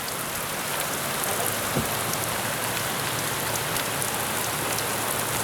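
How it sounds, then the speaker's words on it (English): Steady rain pours down during a storm at Havasu Landing, a dense, even hiss of drops hitting surfaces that continues throughout without voices. "Here comes the rain again."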